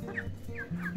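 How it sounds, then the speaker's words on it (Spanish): Hens cluck and gobble-like calls repeat close by, three quick rising notes over a low murmur, no talking. "todas las gallinas han salido"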